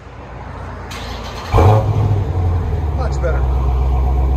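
A Dodge Challenger Scat Pack running Vibrant mufflers rumbles steadily at close range, with a sharp rise in loudness as the exhaust note deepens, and someone speaks briefly over it.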